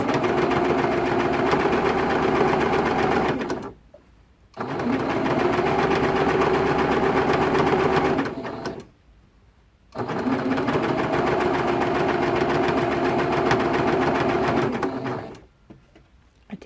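A sewing machine stitches T-shirt quilt blocks in three long runs of rapid, steady mechanical whirring, close and loud, separated by brief pauses.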